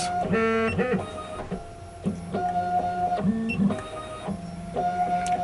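A key cutting machine calibrates while cutting a BMW Mini key, giving steady whirring motor tones with short stepping shifts in pitch and a repeating mechanical pattern. It runs close and fairly loud throughout, with no talk.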